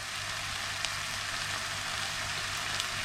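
Mushrooms fry steadily in a pan for a cream of mushroom soup with anchovies, giving a continuous close sizzle with faint crackles and no talking.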